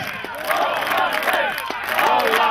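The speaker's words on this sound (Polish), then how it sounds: "Gorący doping, moi drodzy" Fans cheer at an American football match between the Lowlanders and Falcons, a loud, surging crowd roar with chanting voices that swells and dips in waves, and a commentator's voice comes through.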